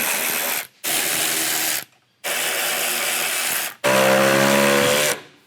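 A ratchet wrench cranks out 10 mm bolts beneath the front bumper of a 2024 Toyota Tacoma, sounding in four loud bursts of rapid clicking separated by short pauses, with the last burst holding a rising whine.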